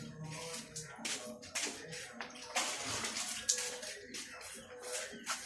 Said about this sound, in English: Just add water to the plant.